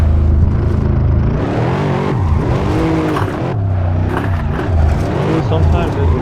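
A Mercedes W213 E63S Estate engine revs hard in the Assetto Corsa racing game, a loud continuous roar rising and falling in pitch with tire squeal, while someone talks over it.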